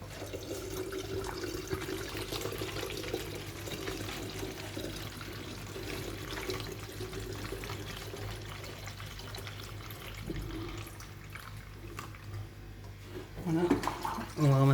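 Water runs steadily into a shrimp tank container, a continuous broadband rush with a low hum beneath, easing near the end where a few clunks and handling sounds break in.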